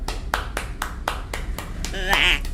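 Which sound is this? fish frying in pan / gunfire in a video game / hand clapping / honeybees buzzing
hand clapping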